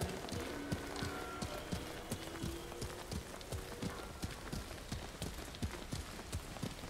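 Hooves clip-clop steadily in Ghost of Tsushima as a horse runs, quick rhythmic thuds repeating throughout at low volume over a dense ambient background.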